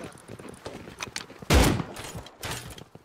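Gunfire in the survival game Rust during a primitive cave base defense: a single loud, close burst of shots rings out mid-clip amid scattered smaller clicks and movement sounds, with players talking faintly around it.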